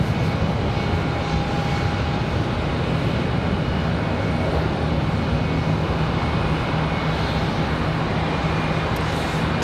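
An airliner climbs out from Charlotte Douglas International Airport, its jet engines producing a steady, continuous roar with a faint whine, constant in level for the whole stretch and unaccompanied by voices.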